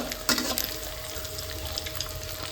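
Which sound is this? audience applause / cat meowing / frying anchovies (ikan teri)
frying anchovies (ikan teri)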